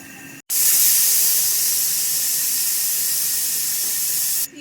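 Sev, thin strands of gram-flour dough, frying in hot oil in a home kitchen for sweet laddu: a loud, steady, bright hiss and sizzle that starts abruptly and runs unbroken for about four seconds before cutting off.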